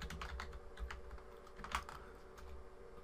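Password being typed on a computer keyboard, a quick run of soft, close key clicks over a faint steady background hum, with no talking.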